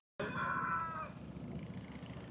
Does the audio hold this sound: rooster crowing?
yes